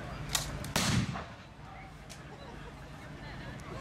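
A shotgun with a protruding firing pin goes off as the action is closed at an outdoor game fair, giving a short sharp report with a couple of faint clicks before it and quiet ambient noise after.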